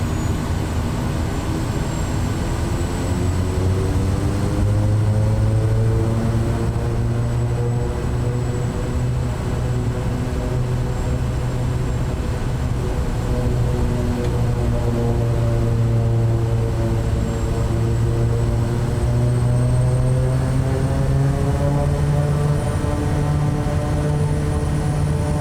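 An aircraft engine at high idle in Microsoft Flight Simulator 2024, a steady loud propeller drone with slowly shifting tonal harmonics that holds constant throughout, with no talking.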